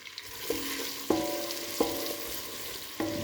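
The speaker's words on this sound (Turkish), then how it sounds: "Soğanlar kavurduktan sonra tereyağını koyacaktım aslında" Butter sizzling in a pan with sautéed onions for a green lentil dish, a steady close frying hiss broken by a few clinking stirs against the pan, no speech.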